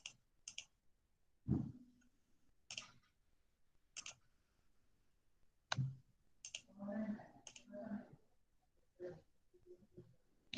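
Computer mouse clicks while working in modelling software, sparse sharp clicks spaced a second or two apart, quiet and close, with a brief stretch of faint rustling in between.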